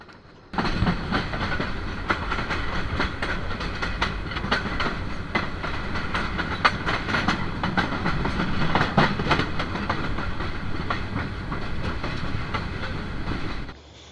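The Chitra Express passenger train, bound for Dewanganj, rolls along the rails toward Gafargaon station with a loud, steady rumble and rhythmic clickety-clack of wheels over rail joints, heard from on board and lasting about thirteen seconds before cutting off.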